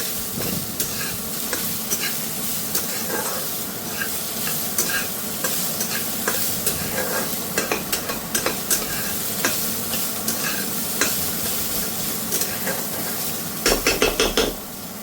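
Food frying slowly in a pan over medium-low heat, a steady soft sizzle with frequent scraping and clinking stirs of a utensil against the pan, close, growing busier near the end, no talk.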